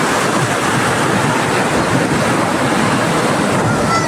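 Steady ocean surf roars across the whole stretch on a sandy beach in Greece, a broad continuous wash of breaking waves with some wind rumble and no voices.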